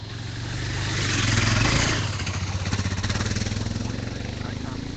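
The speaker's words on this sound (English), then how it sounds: "Here, one more bike coming." A rally motorcycle churns through deep sand at a sandy rally stage, its engine droning and rising as it nears, loudest midway, then a rough pulsing buzz as it moves on, with a voice talking over it.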